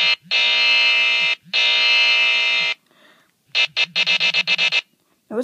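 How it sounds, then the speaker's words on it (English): A buzzer button app on an Android phone sounds two long, loud electronic buzzes, then a short burst of rapid stuttering buzz pulses, all alone with no talk. "it sounds like the buzzer from Whose Line Is It Anyway?"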